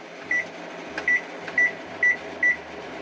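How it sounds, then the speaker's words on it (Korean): A microwave oven heating a frozen bulgogi pizza gives a low, steady hum with five short, clear electronic beeps from its control panel at regular intervals. "전자레인지 덜컹"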